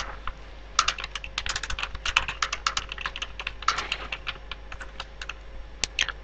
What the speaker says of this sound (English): I'll move using the arrow keys and create the new card here.